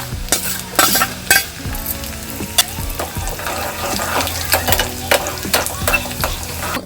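Curry leaves and dried red chillies crackling in hot oil for an Angamaly-style Kerala mango curry, a loud close sizzle with sharp popping bursts and repeated scrapes and clinks of a spoon in the pan, no voices.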